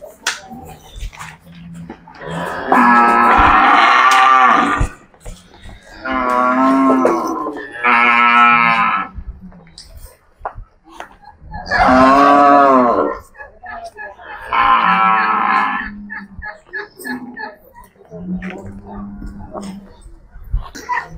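Madura cattle at a livestock stock yard give several long, loud moos spaced a few seconds apart, with quieter clatter and people talking faintly between the calls.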